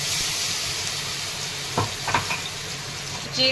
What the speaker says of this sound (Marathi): आता कढईमध्ये ना जिरे आणि मोहरी टाकलेला आहे आणि हिरवी मिरची आणि लसूण